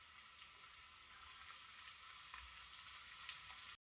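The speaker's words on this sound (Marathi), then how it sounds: "ह्याला सुद्धा आपण परतवून घेऊया" Garlic, green beans and onion sauté in a hot pan for chicken fried rice, giving a steady, soft, hissing sizzle with occasional faint stirring clicks before it cuts off abruptly.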